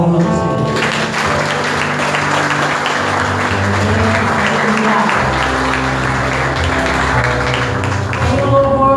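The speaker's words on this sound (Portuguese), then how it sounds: "E as palmas ao Senhor." A Portuguese-speaking church congregation claps to the Lord during a family worship service, continuous clapping over sustained organ or keyboard chords, fairly loud and close.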